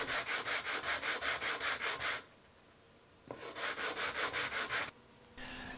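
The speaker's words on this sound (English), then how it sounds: "Next I need to even out the surfaces with a sanding block that I made." A homemade wooden sanding block fitted with coarse 60 grit sandpaper rubs back and forth over a wood surface in quick, even rhythmic strokes, one burst, a pause, then another burst, close and clear.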